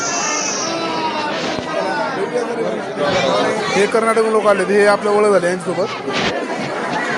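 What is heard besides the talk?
crowd at Trimbakeshwar Jyotirlinga temple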